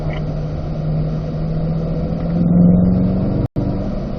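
A Chevrolet Corvette C8 accelerates on a racetrack out of a corner, giving a steady, close engine drone that swells briefly near the end, recorded from inside the car with a short dropout.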